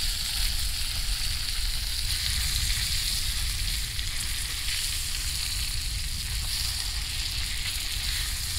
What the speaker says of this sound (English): Steak swimming in butter. Literally swimming in butter.